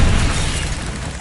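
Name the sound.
Bombarda and Confringo spell explosions from a video game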